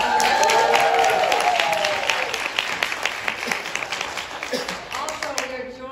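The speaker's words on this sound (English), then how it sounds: "Let's give them a round of applause." A round of applause for a Korean academy's performance at a Lunar New Year celebration in Brooklyn. Full crowd clapping starts loud and gradually thins over several seconds, with a speaking voice and some cheering mixed in near the end.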